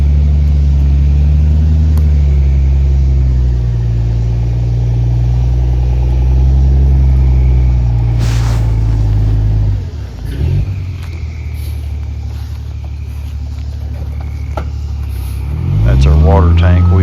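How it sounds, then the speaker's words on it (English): A truck drives through a building site where the ground is to be raised a few feet. Its engine gives a loud, steady low rumble throughout, dips briefly partway through, then swells again near the end. "where that truck is driving through there"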